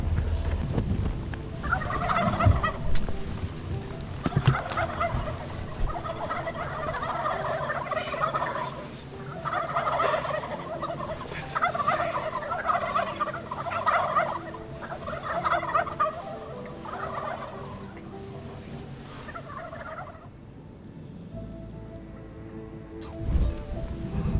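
Repeated bursts of wild turkey gobbling, several birds calling in quick rattling volleys, moderately close, with light rustling in between.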